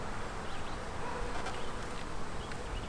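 Honeybees buzzing at a queenless hive, a steady dense hum of many bees close by with no talking.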